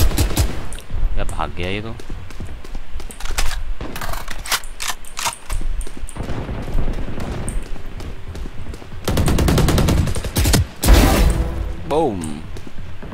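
Phantom rifle bursts in Valorant come in sharp repeated volleys between quieter stretches of game sound, loud and close, with someone talking briefly over part of it.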